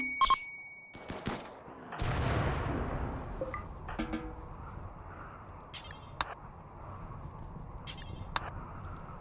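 Gunshots ring out while hunting boomalopes in RimWorld, heard as a series of sharp, separate cracks spread across the span over a steady low rumble of fire, with a few metallic clinks between.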